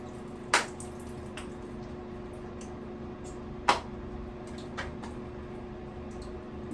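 Conditioner squeezed from a bottle into a hand during a hair wash, two sharp wet squelching squirts a few seconds apart, then a fainter third one, close and quiet against a soft background hum.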